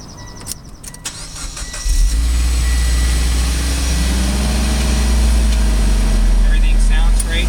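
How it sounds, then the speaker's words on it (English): A 2013 Mitsubishi Lancer Evolution GSR engine cranks and catches around the two-second mark, then settles into a steady, loud, low idle that continues to the end, with faint handling noises before the start. "Let me turn the car on."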